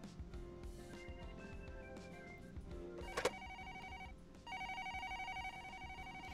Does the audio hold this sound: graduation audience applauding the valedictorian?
no